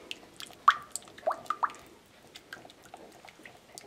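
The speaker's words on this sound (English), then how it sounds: "you just mix together these wet ingredients" Wet cookie ingredients being mixed in a bowl for gluten-free chocolate chip cookies, soft irregular squishes and liquid plops heard close and fairly quiet.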